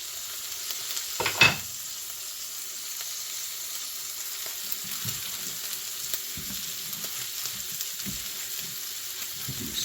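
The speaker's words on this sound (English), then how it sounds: "Let the eggs keep cooking." Eggs for a breakfast casserole cooking in a cast iron pan, a continuous moderate sizzle with a brief clink early on and soft stirring scrapes throughout.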